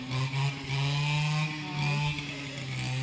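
A Stihl chainsaw runs outdoors on a farm plot, its two-stroke engine whining at a steady pitch and surging in repeated revs and dips, close and loud with no voices.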